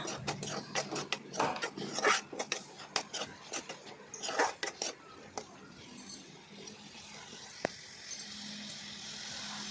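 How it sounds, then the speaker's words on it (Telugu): Broad beans frying in a pan for masala chikudikaya, stirred with a metal spoon that scrapes and clinks rhythmically against the pan, over a steady low sizzle that continues once the stirring stops. "బాగా ఫ్రై చేసామండి."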